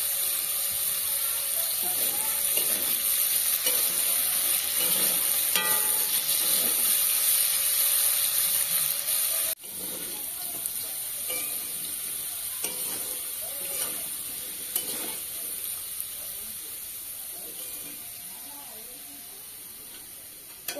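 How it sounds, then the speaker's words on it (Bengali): Potato pieces seasoned with turmeric and salt fry in oil in a kadai, giving a steady close sizzle with repeated scraping and stirring strokes and a brief voice now and then. "আলুগুলো হালকা করে একটু ভাজা হয়ে গেছে"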